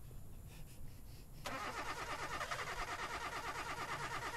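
A video game car whose battery was killed by an EMP tries to start. A quiet cranking rumble gives way to a sudden, steady, loud engine-like drone that carries on to the end, with no talking.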